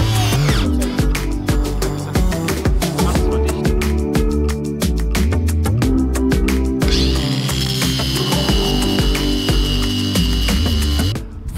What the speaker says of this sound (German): deswegen verschrauben wir jetzt die Teile ans Panel dran und dann wird es montiert